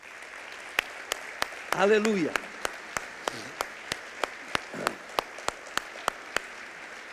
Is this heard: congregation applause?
yes